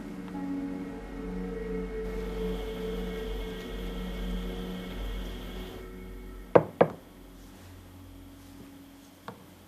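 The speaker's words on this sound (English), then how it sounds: "You know you don't have to knock." A few sharp knocks on a door, two close together then one fainter rap, sounding indoors over a low steady room hum.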